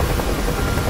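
Helicopter in the DCS combat flight game, a steady loud rotor and engine drone filling the whole moment with no talk over it.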